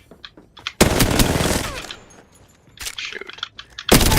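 Bursts of automatic rifle fire in Apex Legends, a sustained volley followed by gaps, scattered shots, then another sharp burst, loud and close with no talking.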